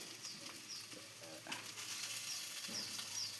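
Potatoes go into hot oil in a pan and fry with a steady soft sizzle, a few scraping stirs of a spatula in the middle, close and fairly quiet with no talking.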